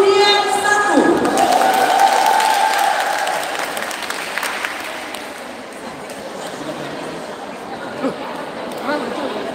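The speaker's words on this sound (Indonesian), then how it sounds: "Kita kasih tepuk tangan untuk nomor undian 1." An audience applauds a contestant at a women's church fellowship crying competition, loud steady clapping with some cheering and chatter, and a voice speaking at the start.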